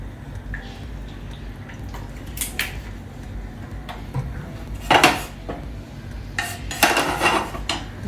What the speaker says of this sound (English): Now we are going to use the same pan to have the maximum flavor in our sauce.